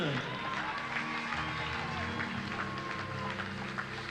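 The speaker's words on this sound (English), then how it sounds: "All three deserving all of the applause here." Crowd applause and cheering for the podium riders at the 2019 Paris-Roubaix cycling race, a steady wash of clapping outdoors with voices and announcer talk mixed in.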